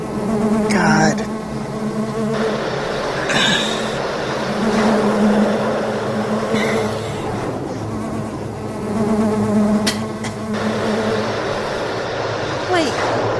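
Buzzing bees in a jigsaw-themed adventure video game, a continuous droning hum that swells and fades, loud and near, running under voices talking throughout.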